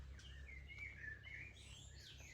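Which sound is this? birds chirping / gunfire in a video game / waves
birds chirping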